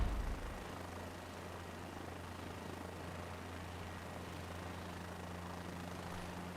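Helicopter in Microsoft Flight Simulator 2024 hovering low at about two feet, a steady droning engine and rotor hum with a low constant tone, held evenly throughout with no talking.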